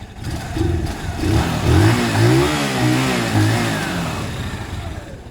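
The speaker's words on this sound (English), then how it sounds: "And this one's just idling away." A Zontes Mantis 125cc motorcycle engine idles nearby with a steady, burbling putter that wavers slightly in pitch and swells a little in the middle.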